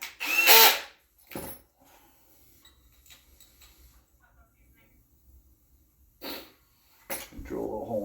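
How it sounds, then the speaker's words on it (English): Power drill boring a small hole during a handmade spray bar build for a high banker trommel; short bursts of whirring drill separated by quiet stretches, close, with some talking at the end. "Drill a little hole in that."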